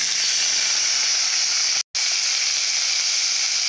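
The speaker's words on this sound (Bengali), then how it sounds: "এইভাবে ভেজে নেব।" Long-cut potatoes frying in a pan, a loud steady hiss of sizzling oil with one abrupt brief dropout midway.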